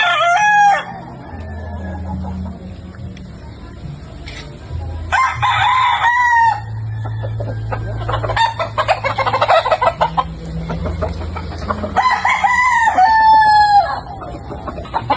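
A bulik rooster crows loudly and close three times, at the start, in the middle and near the end. Clucking and softer calls fill the gaps, and there is a low background hum.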